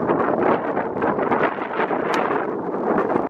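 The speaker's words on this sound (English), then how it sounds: "The wind actually picked up really, really strong right as I got over the ball." Strong gusts buffet the microphone on an open golf course, a loud, steady roaring rumble with no voices over it.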